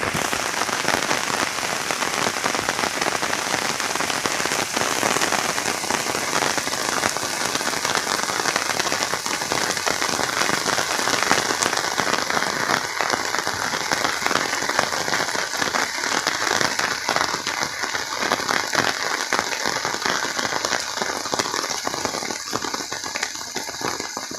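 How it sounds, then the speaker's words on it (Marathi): Steady rain falls on an evening in a Konkan village near Ratnagiri, a dense, continuous patter of drops on surfaces that stays loud and even throughout, with no voices. "इकडे पाऊस थोडासा झाला आहे बघा."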